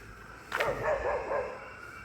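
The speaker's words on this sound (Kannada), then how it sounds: "ನಾಯಿಗಳು ಬೊಗಳ್ತಾವೆ" Dogs bark outdoors near a roadside, a short burst of two or three yelping barks at middle distance, moderately loud against quiet background hum.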